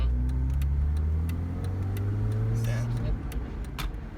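A manual-transmission car's engine pulls away in first gear, a steady low drone climbing in pitch for about three seconds before the tone shifts. It is heard from inside the car, close and continuous.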